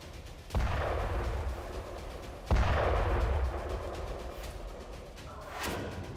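Rockets strike Israeli military posts at the Beit Hillel and Zar'it barracks: two heavy, booming blasts a couple of seconds apart, each followed by a long rumbling decay.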